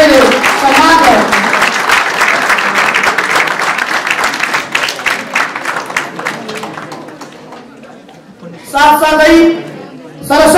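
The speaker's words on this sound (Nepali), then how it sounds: "एकपटक गडगडाट तालीले कार्यक्रमको समुद्घाटनमा" A crowd gives loud applause at the inauguration of a district-level inter-school quiz contest, dense clapping that thins out after several seconds, followed by someone speaking over a microphone.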